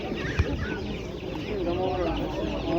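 Chickens cluck close by at a busy poultry market in Kyzylorda, Kazakhstan, with a sharp thump early on and people talking faintly in the background.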